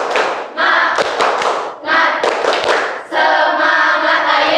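A class claps out a rhythmic spirit clap in bursts of loud, quick hand claps and thumps, pausing briefly between phrases, with voices chanting along.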